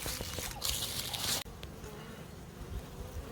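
Honey bees buzz around a hive entrance in a colony infested with Capensis bees, a close, dense buzzing swarm that briefly swells louder near the start, then continues more softly.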